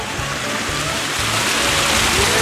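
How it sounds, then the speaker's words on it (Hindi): Water flows along a stream at the origin of the Tapti river in Multai, a steady, close rushing and splashing that continues without a break and with no voices. "पूरा पानी जो है ये बह रहा है"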